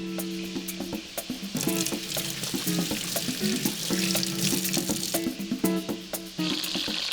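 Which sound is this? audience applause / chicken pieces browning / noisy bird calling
chicken pieces browning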